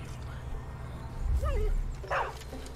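A dog in the Far Cry 5 video game gives a short whimper and yip, a brief high whine standing out over a steady low rumble of game ambience.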